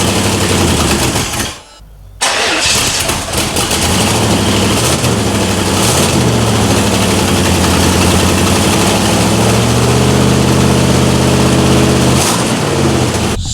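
A rebuilt 1994 Chevrolet Camaro Z28 engine cranks, catches after a brief pause, and settles into a loud, steady close-up idle.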